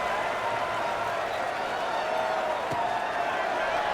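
Steady roar of a football stadium crowd at a Tulsa at Akron game before a kickoff, a dense wash of cheering and applause that holds even and loud throughout.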